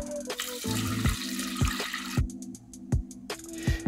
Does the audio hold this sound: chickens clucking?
no